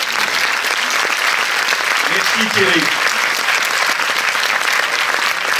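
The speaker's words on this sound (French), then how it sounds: "Donc si vous voulez bien l'applaudir pour son audace" Audience at a Paris premiere at the Cinémathèque applauds Thierry Frémaux, steady dense clapping filling the room throughout, with a brief voice speaking over it.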